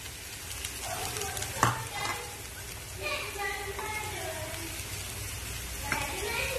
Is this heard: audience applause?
no